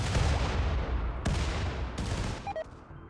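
Colonists in the video game Rimworld open fire on a group of grenadiers in a mortar-supported battle. Sustained rattling gunfire runs throughout at steady loudness, with a couple of sharper reports and brief electronic blips near the end.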